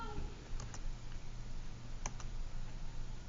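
Calculator keys pressed while entering a fraction: a few soft, close clicks in two quick pairs over a steady low hum.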